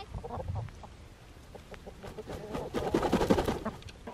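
Chickens cluck softly and steadily in a backyard coop shared with a goose, a close chorus of short murmuring clucks that grows busier and louder toward the end.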